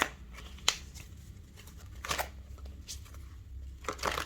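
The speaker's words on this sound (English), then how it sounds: "3 more shuffles and I will pull from the middle" Tarot cards being shuffled by hand, soft close riffling and slapping in a few quick bursts with a sharp snap near the start, quiet and without talk.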